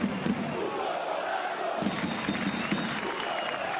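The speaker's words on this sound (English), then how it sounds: "You can hear what the crowd think of it." Basketball arena crowd murmurs and jeers at the home side's poor play, a broad restless roar with scattered louder shouts and a few sharp knocks, and a commentator talks faintly under it.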